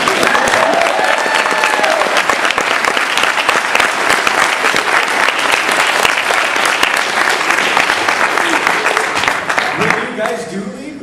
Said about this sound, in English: Can I get a big round of applause for Rob Liefeld?